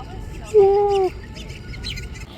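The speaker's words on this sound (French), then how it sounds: "Oh, il y a un petit oiseau!" A small bird in Paris gives a single clear, drawn-out chirp lasting about half a second, fairly close and distinct over a soft outdoor background hum.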